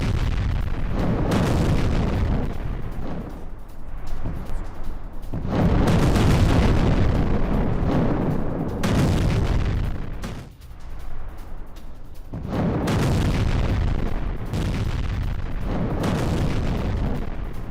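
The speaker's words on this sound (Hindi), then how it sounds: "यूक्रेन का रूसी कब्जे वाली बिल्डिंग पर हमला। विध्वंसक बम से यूक्रेन का रूस पर हमला।" Repeated heavy booms and explosive rumbles from bombs striking a Russian-held building in a Ukrainian attack, loud and sustained, rolling in several waves with brief dips between them and no talk.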